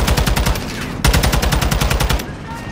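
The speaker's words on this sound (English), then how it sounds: "Yeah, we're shooting at them." Rapid automatic gunfire in Call of Duty Modern Warfare 2 rattles in dense, fast bursts, close and loud, with a brief break partway through.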